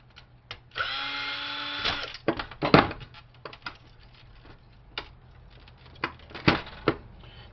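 A power drill backing screws out of a printer being scrapped: a short motor whine, then scattered clicks, clatters and rattles of screws and plastic parts at close range, with no talking.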